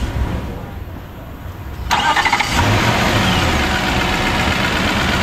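A 2014 Nissan Patrol Platinum starts up after its starter has been replaced: a short crank, then the engine catches and settles into a steady, loud idle close by.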